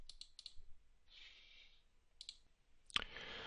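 A computer mouse clicks on a software icon in quiet surroundings, a few sharp, faint clicks in short clusters with soft brushing noises between them.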